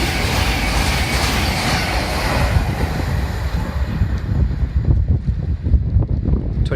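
A CrossCountry passenger train rumbles loudly through Chester-le-Street station, a broad roaring rush with heavy wind buffeting the microphone, giving way to rhythmic clattering of wheels over rail joints as the carriages pass.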